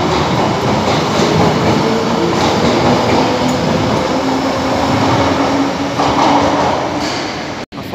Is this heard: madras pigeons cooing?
no